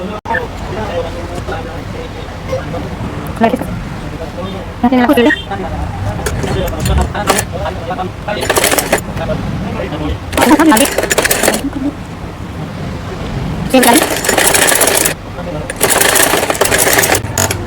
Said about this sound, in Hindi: हम दूसरी साइड भी अब सिलाई लगा लेते हैं।